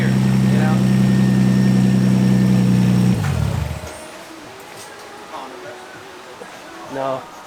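A Nissan 350Z with open headers and the exhaust removed idles loudly with a deep, throbbing drone for about three seconds, then the engine is shut off, leaving a quiet room with faint movement and a brief murmur.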